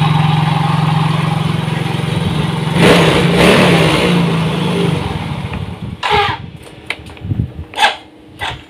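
A Soul GT motorcycle with an unstable idle and hard-starting trouble runs close by and revs up briefly, then the engine cuts out, leaving scattered clicks and knocks from the workshop.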